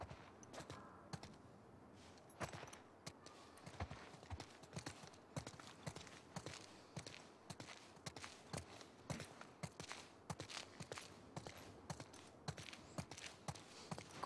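Horses walk with a steady, close clip-clop of hooves in a video game, the rhythmic hoof strikes running throughout with light sharp clicks layered over them.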